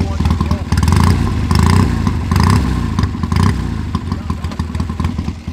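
A 1969 Triumph Trophy TR6R motorcycle engine runs close and loud, with a rough, throbbing idle and a few blips of revving, while a person talks over it.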